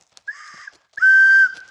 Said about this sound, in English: So now I've plugged that hole with my finger here. Okay, it whistles, okay?